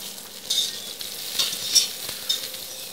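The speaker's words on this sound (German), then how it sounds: "So, Brutzel, Brutzel, Brutzel. Jetzt geht's los hier." Food fries in a pan with a steady close sizzle while a utensil scrapes and stirs, giving several sharp clicks against the pan; no one speaks.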